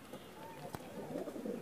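Pigeons coo inside a loft, soft low throaty calls that are faint and close, heard beneath background murmur and a brief knock.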